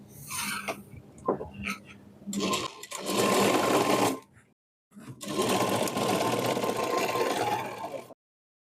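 A sewing machine stitches cut work on a blouse in several bursts, a few short ones followed by two longer steady runs separated by a brief pause, heard up close without talk.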